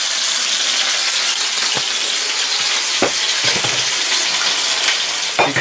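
Loud, close sizzling of sweet-and-sour chicken frying in a Teflon pan, a continuous hiss with occasional clicks of a metal utensil stirring.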